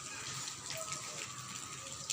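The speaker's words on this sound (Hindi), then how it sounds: "इतना अच्छा रेनी डे आज है" Faint, steady hiss of rain falling on a rainy day, a soft, even patter that continues throughout with no voices.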